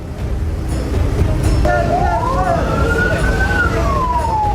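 A fire engine siren wails, its pitch sweeping up and then slowly falling, rising out of steady traffic rumble and a murmur of voices.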